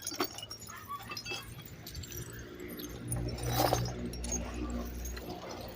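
Broken glass bottles clink and jangle as they are sorted into sacks at a glass recycling site in the Davao region, a steady near clatter of shards with a louder burst of clinking midway.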